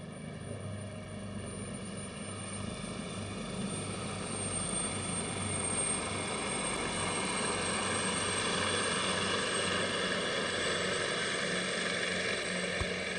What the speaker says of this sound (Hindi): एयरफोर्स का ऑगस्टा वेस्टलैंड 139 हेलीकॉप्टर